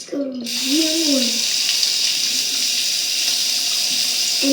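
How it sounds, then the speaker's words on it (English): Steaming hot water runs steadily from a tap in a steady hiss, loud and close, while a voice hums or talks briefly at the start. "the water I'm using right now is steaming"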